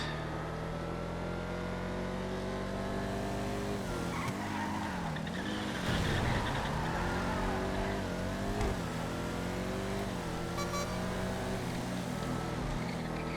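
Pajero ZX car engine racing in a GTA FiveM race, a loud steady engine drone with rising and falling revs as it accelerates and shifts, with tire squeal and skidding.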